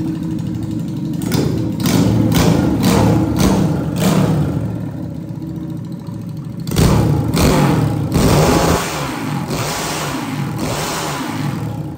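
Honda Titan motorcycle engine bored to 340cc with dual GRS exhausts: loud, close revving in repeated sharp bursts over a steady idle, then a long high-RPM blast.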